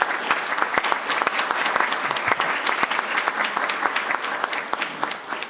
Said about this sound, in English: Let's give Melly a round of applause.